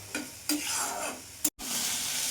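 Fried potato and eggplant pieces being stirred with spices in a hot pan, a sizzling hiss broken by a few scraping strokes of the spoon and one brief silent gap.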